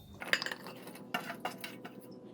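Cut corn pieces dropped into a mixing bowl for a spicy corn salad, a few close clinks and clatters of kernels and utensil against the bowl, short and irregular, without talking.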